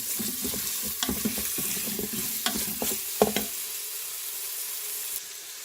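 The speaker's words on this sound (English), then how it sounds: "And I put the bacon in there." Bacon frying in a pot, a loud sizzle with a flurry of close spoon scrapes and clacks from stirring, then settling into steady crackle.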